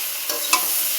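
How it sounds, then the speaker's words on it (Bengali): Vegetable curry frying in a pan with a little sugar added, giving a steady close sizzle broken by two brief scraping stirs of the spoon, with no voices. "নিরামিষ তরকারি যখন ভাজা হয়, তখন ভাজার সাথে একটু চিনি দিয়ে দিবি"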